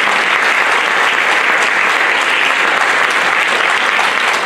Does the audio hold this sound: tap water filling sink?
no